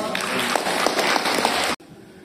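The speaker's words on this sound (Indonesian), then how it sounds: "kasih aplaus" An audience at a parish gathering breaks into steady applause, dense clapping at close range that continues for under two seconds and then stops abruptly.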